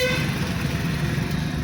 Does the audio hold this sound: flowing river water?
no